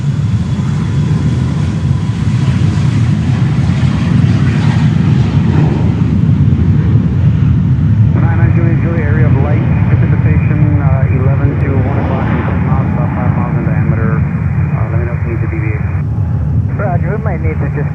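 Frontier Airlines airliner passing near Fort Lauderdale Hollywood International Airport, a steady broad engine roar lasting throughout, with radio voices talking over it.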